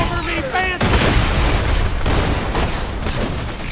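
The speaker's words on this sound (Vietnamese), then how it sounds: "Cái gì nó nổ ấy?" Explosion in the video game Borderlands 2, a loud broadband burst near the start that rolls into sustained rumbling and crackling gunfire, with a voice speaking briefly before it.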